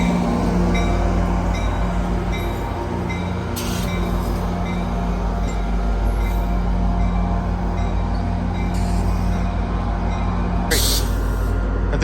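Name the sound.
approaching train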